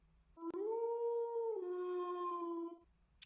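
A single sustained, high-pitched beastly howl from the Tsukihime video game, clear and loud, stepping down in pitch partway through before fading to quiet.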